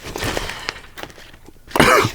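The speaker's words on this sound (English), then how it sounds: "Sorry for the cough, not COVID." A single sharp cough bursts out near the end, after a stretch of quiet rustling and faint knocks.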